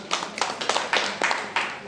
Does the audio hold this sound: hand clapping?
yes